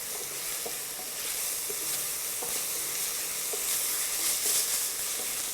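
Ginger and garlic paste sizzling in hot oil in a pan, a bright continuous hiss with occasional scrapes and clicks of stirring, close and fairly loud, with no voices.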